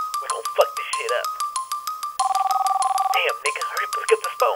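A telephone ringtone sounds in a hip-hop track, bright repeated electronic trills in a steady pulsing rhythm, loud and up front, with a brief sustained tone midway and voices over it.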